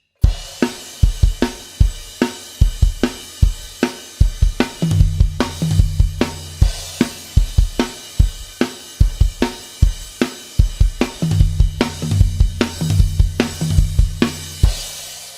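Full drum kit playing an outro, steady driving beats with punchy snare and cymbal hits and tom fills, loud and close throughout.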